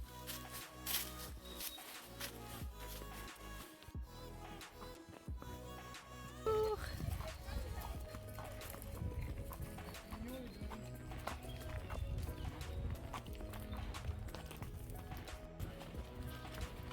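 Horses' hooves clop along a countryside trail ride, a steady rhythmic beat that becomes fuller and more continuous partway through, with light rustling around the walking horses.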